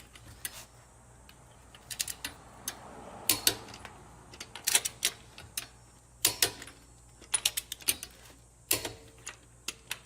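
Ratcheting clicks from a wrench torquing down wheel hardware on a 2022 Acura MDX during a brake service, coming in quick irregular bursts of sharp ticks with short pauses between, fairly close in a quiet shop.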